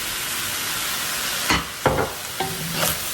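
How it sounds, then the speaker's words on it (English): Fried rice with dark soy sauce stirred in a hot pan over a steady sizzle, with four sharp scraping strokes of the utensil in quick, uneven succession, close and clear. "make sure you're constantly stirring it"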